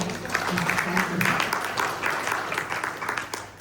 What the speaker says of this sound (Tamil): இவாளை நன்றாக கைத்தட்டி உற்சாகப்படுத்த வேண்டிய ஒன்றுதான்